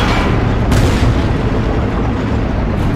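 A tank cannon in Battlefield Iraq fires at an M1 Abrams, producing a loud, deep boom that rolls out across the whole stretch, with a sharp crack near the start and a dense low rumble that carries under it.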